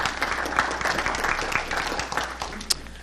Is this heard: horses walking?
no